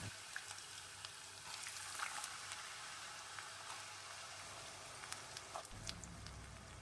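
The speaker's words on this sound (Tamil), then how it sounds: "எண்ணெய் நல்லா காஞ்சிருச்சு நம்ம நறுக்கி வச்சுருந்த உருளைக்கிழங்கு எல்லாத்தையும் போட்டுடலாம்" Potatoes sizzle in hot oil with a soft, steady crackle and occasional pops, faint and continuous.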